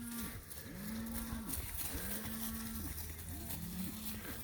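Cattle bawl repeatedly in a paddock, a herd of cows lowing in long drawn-out moos that overlap from several animals at varying distances, steady and loud throughout.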